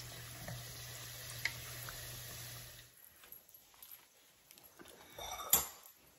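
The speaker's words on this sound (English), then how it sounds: "And you just add them in and let them fry until they're like golden brown." Cheeseburger egg rolls fry in hot oil with a soft, steady sizzle that fades after a few seconds into scattered faint crackles and pops, quiet and close.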